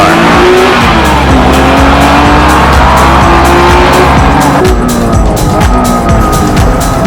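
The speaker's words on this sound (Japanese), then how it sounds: "Gansan in the NSX-R." A Honda NSX-R race car is driven hard on a circuit, its engine a loud, close, continuous high-revving roar with a gear change partway through and the pitch climbing again.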